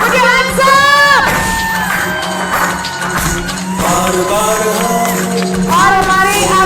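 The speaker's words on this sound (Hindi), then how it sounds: "जोरदार तालियां।" Loud cheering, whoops and shouts from an event crowd at an AWPL diamond-level recognition program, sustained for several seconds with a dense wash of voices and possible clapping underneath.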